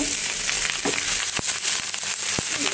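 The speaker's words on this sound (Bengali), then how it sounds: "এই যে আমার চিংড়ি মাছগুলো ভাজা হয়ে গিয়েছে" Small shrimp fry in a pan with a steady, close crackling sizzle, broken by a few sharper pops and scraping knocks throughout.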